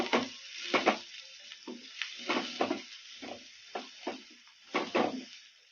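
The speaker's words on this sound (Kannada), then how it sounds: "ಮೀಡಿಯಂ ಫ್ಲೇಮಲ್ಲೇ ಫ್ರೈ ಮಾಡ್ಕೋಬೇಕು" Onions and chickpea masala frying over a medium flame, with repeated bursts of sizzling and scraping as the mix is stirred in the pan, close and fairly steady.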